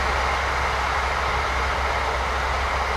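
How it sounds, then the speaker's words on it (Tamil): Train passing in the Euro Truck Simulator 2 driving game: a steady, loud rolling rumble with a broad hiss that holds unchanged for about three seconds, with no talking. "ஆமா ட்ரெயின் சவுண்ட் தான்."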